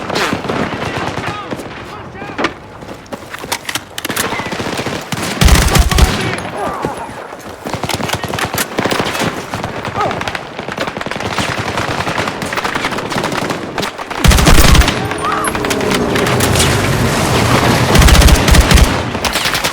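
Rapid bursts of machine gun fire in the video game Battlefield 6 rattle close and loud, broken by sharper heavy shots, with brief pauses between volleys.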